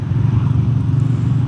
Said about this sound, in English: this rumble in the exhaust and the engine